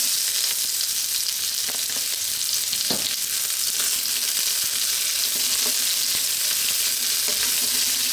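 Onion dropped into hot oil with bay leaves sizzles loudly and evenly up close, a dense frying hiss with a few light clicks of stirring and no talk.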